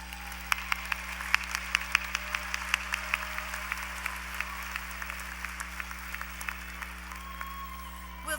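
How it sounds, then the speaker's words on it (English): Steady applause from a commencement audience honoring law graduates, a sustained wash of many hands clapping at a distance with sharper individual claps standing out, no voices. "Let's applaud our law graduates."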